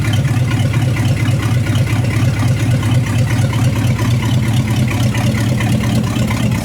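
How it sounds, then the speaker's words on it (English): A 1975 Mopar 360 V8 idles steadily up close, a dense, even low rumble holding at constant level throughout with no speech over it. "There we go, running and idling."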